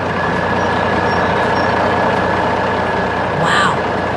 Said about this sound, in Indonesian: Mesin konstruksi kuning besar sedang bekerja di tengah gunung yang keras, menarik beban besar dengan semangat yang luar biasa.